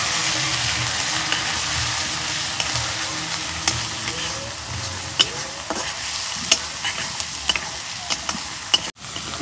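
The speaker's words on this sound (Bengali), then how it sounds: "তেল গরম হচ্ছে, পেঁয়াজ দিয়ে দিব।" Onions frying in hot mustard oil in a kadai, a steady crackling sizzle with occasional stirring scrapes and clinks over a continuous hiss.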